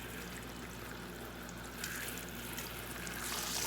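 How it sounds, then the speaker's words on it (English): Water runs steadily while rinsing out a bowl and cup over a batch of purple chow chow vegetables, a soft continuous trickle and pour that grows slightly louder near the end, with no talking. "in order not to waste any of those vegetables, I'm going to rinse out the bowl"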